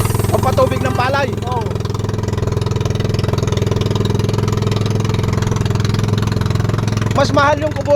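A rice-field irrigation water pump engine runs at a steady, droning idle close by, loud and constant throughout, with a voice speaking over it near the start and again near the end.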